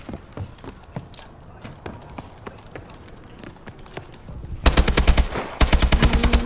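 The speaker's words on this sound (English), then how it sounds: "AK-12, I love this gun." Automatic gunfire from an AK-12 rifle in a video game, with sparse scattered shots early on, then two dense, loud rapid-fire bursts near the end.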